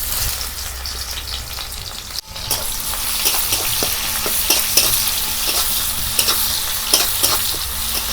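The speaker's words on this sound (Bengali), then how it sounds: "কড়াইয়ের মধ্যে পেঁয়াজটা দিয়ে দেব।" Onion goes into hot oil in a wok, already seasoned with spices and a little sugar, and after a brief dip it fries with a loud, steady sizzle. Spatula scrapes and taps recur throughout.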